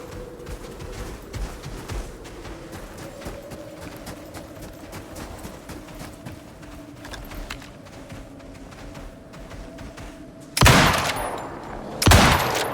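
Gunfire in a video game: a steady background of rapid shots under a droning hum, then two loud, close bursts near the end.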